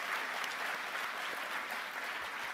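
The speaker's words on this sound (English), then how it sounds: "I'd just like to give an extra round of applause to Fatima." Lecture hall audience at the Edinburgh International Television Festival gives a sustained round of applause for the festival chair, dense even clapping from many people at an even, moderate level.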